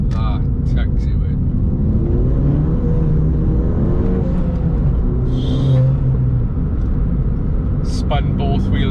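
Ford Fiesta ST fitted with a plated differential accelerating out of a corner, a steady deep engine drone heard from inside the cabin, with brief squeals and a voice talking over it.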